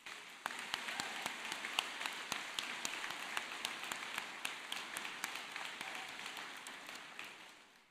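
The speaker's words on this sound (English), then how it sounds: "Let's give her another round of applause." A large audience claps at a College of Business commencement ceremony held in a gymnasium, producing dense, sustained applause that stays steady for the whole stretch without any talking.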